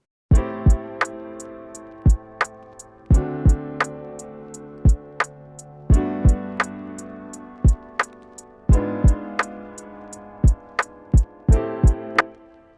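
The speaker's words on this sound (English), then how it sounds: "After that, I'm gonna add a kick." Deep kick drum thumps in a repeating pattern alongside sharp clicking hits and sustained chords, steady and upfront with no voices.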